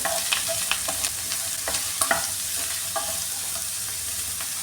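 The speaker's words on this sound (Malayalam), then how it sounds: "ഇനി ഇതിലേക്ക് ഈ സവാള ചേർത്ത് കൊടുക്കാണ്" Chopped onions fry in a pan for chicken roast, giving a constant hiss and sizzle broken by a series of scraping stirs of a spoon against the pan, close by and without speech.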